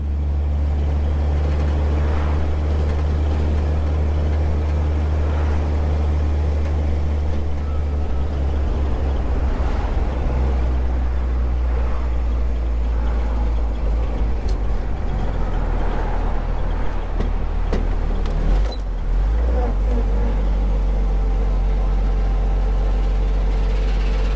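A 1934 Dodge car engine idles and runs steadily, a loud, continuous low rumble close by with no talking.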